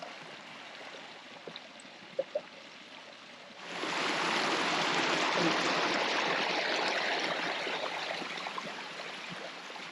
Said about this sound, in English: the leaves can cause a dam up, which then diverts the water in a direction that we necessarily don't want, which is what's happening right here